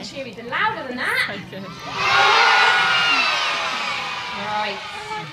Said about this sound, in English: I think you can cheer even louder than that.